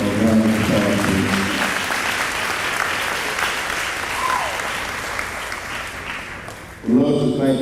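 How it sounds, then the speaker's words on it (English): Banquet audience clapping together in a sustained, even round of applause, dense and fairly close, carrying on for several seconds before a voice briefly comes back near the end. "So please give those guys and those ladies a round of applause"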